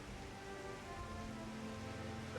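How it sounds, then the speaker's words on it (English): Steady rain patters on a surface as a faint, even wash of noise that never lets up, with no voices over it. "It's still raining here."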